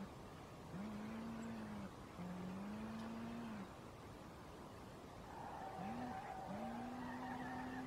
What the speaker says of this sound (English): So the car does drift very nicely